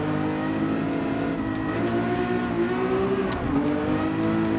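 A race car engine accelerating in Gran Turismo 7, a steady loud droning roar whose pitch climbs and shifts with gear changes, heard alone without talk.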